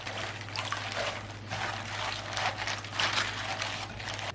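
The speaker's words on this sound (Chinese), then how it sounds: "然后放入清水中清洗干净" Fresh lettuce heads being rinsed in a basin of clean water, giving a steady close trickle and splash with soft leafy rustling throughout, no talk.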